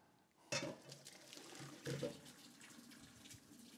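Cauliflower and hot water dumped into a colander, a close gush of running, splashing water with two louder bursts, fairly quiet overall.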